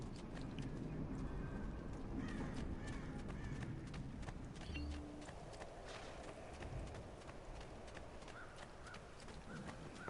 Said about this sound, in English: I've never hated the way riding horses feels in the Assassin's Creed games